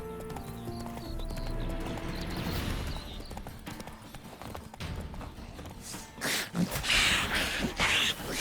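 A horse gallops in The Witcher 3 video game, a fast rhythmic clip-clop of hooves that runs steadily, over game music at first and followed by a whinny and snorting near the end.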